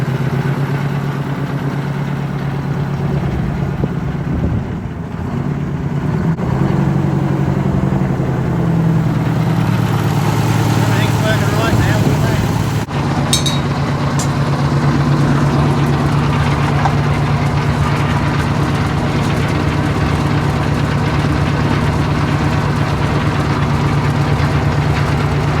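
A supercharged two-stroke V8 Detroit diesel in a long-sitting Kenworth truck runs at a steady, loud idle, with a shift in its drone partway through.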